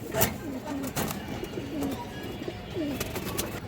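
Soft pigeon coos repeat several times at close range, with a few sharp thumps and rustles mixed in and no talking.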